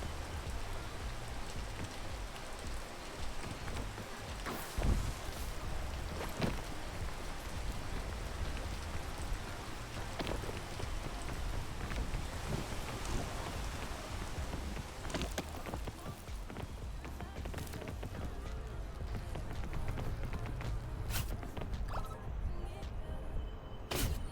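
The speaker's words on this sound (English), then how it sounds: "it's raining every single time" Steady rain falls on a spot partway up a vine climb, a constant hiss broken by a few sharper thumps and taps scattered through the downpour.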